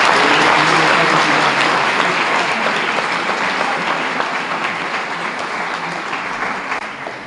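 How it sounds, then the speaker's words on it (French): A French audience at a CPGE sponsorship ceremony applauding a project, with loud, sustained clapping throughout that slowly eases in intensity toward the end. "On peut applaudir encore une fois le projet."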